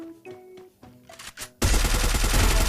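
Gunfire in the mobile game Free Fire erupts suddenly after a few soft tonal game blips and chimes, then continues as a loud, dense, sustained burst to the end.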